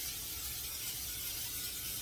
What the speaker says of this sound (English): I'm going to spray my baking dish